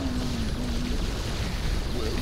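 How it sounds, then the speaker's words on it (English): A battle cruiser in a video game churning through water, a steady, constant wash of engine rumble and hissing spray with a faint tonal hum, heard alone at an even level. "Driving my battle cruiser."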